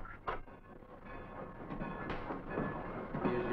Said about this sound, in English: Here's your train, mister.